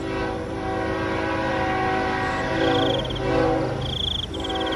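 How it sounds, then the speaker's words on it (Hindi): A train rumbles steadily with rising intensity, metallic squeals and a horn-like tone cutting in briefly, sounding as if it is drawing closer. "ट्रेन की आवाज भी अब तेज हो जाती है"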